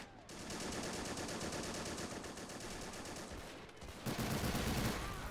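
Sustained gunfire from a WWII battle in the video game Men of War, defending a coast against an Allied amphibious landing in Africa: dense, continuous rapid-fire shooting that swells into a louder, heavier burst near the end.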